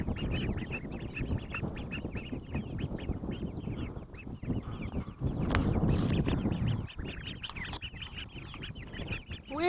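Ducks and broiler chickens on a small backyard homestead quack and cluck together continuously, with a busy mix of close, fairly loud fowl calls outdoors.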